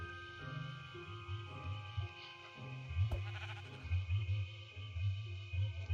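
A Minecraft sheep bleats in short repeated cries over a background of game music.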